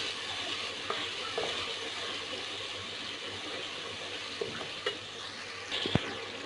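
Red chili powder, dried coriander and ground cumin fry in a pan for Lahori chickpeas, making a steady close hiss broken by a few sparse scrapes and taps of the stirring spoon, with no talking.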